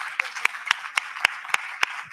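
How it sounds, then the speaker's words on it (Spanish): At an academic talk about older people, hands clap in a sparse, even rhythm of about eight sharp claps, close and moderately loud, with no crowd swell. "Un aplauso para..."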